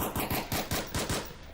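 Rapid automatic gunfire in the VR shooter Onward, about eight loud, evenly spaced shots in a quick burst, close and punchy with no talk.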